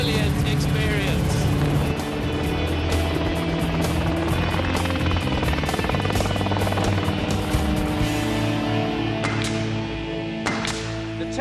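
Loud, steady helicopter rotor and engine noise on a test flight, heard from inside, filling the whole stretch, with a constant droning hum and some rattling.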